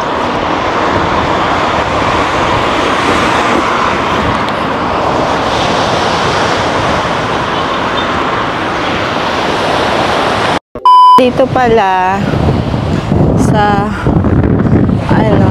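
Strong wind roars across a Greek seashore at high tide, a loud, steady rush of surf and gusts filling the air before it cuts out abruptly and a person speaks close by.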